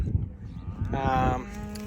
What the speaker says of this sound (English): We let the cows out and we're gonna let them mother up